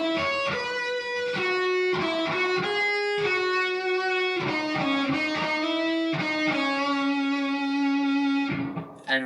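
An electric guitar with a distorted, effects-laden tone plays a riff, mixing picked notes with hammer-ons and pull-offs. Ringing, sustained notes follow one another in a steady melodic line, played close and alone without any talking.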